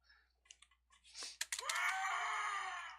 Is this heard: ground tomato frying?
no